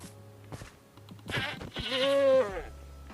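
A goat in Minecraft Bedrock Edition being attacked, giving a loud, wavering bleat amid short game hit and movement sounds, clear and close.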